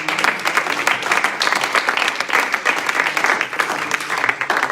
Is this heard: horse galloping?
no